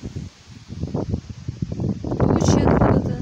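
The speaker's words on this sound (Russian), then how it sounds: "Вот такой ветер. Деревья качаются, гнутся. Сейчас такой сильный-сильный порыв ветра был." Strong wind gusts through bending trees outdoors, building in the second half into a dense, close rush of rustling leaves after quieter intermittent bursts, with a voice speaking over the noise.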